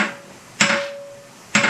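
Two sharp metallic hammer blows strike a steel drift against the perch pins of an early 1939-1948 Ford straight front axle, each hit ringing with a sustained tone that slowly decays, close and loud in a shop.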